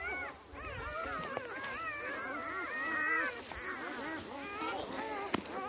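Newborn puppies in a litter give a steady chorus of high, wavering whimpers and squeaks, close and continuous, with a few louder yips near the end; no speech.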